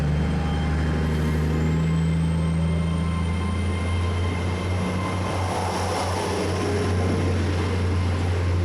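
Heavy diesel train engine droning steadily and loud near Stonehouse, Gloucestershire, a continuous low rumble with a rising whine as it pulls away, no talk over it.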